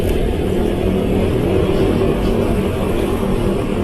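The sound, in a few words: vehicle exhaust sound while revving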